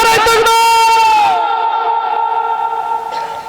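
A large crowd at an Islamic religious sermon gathering shouts a loud, unified chant in answer to a takbir call, then the massed voices hold and fade into a long echoing tail.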